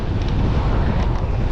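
Strong wind beside Lake Waihola buffets the microphone in a loud, continuous low roar with gusty fluctuations, with no talk.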